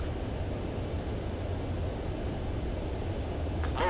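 Constant, even roar of a jet fighter on landing approach in the video game Ace Combat 7, holding at a steady level throughout.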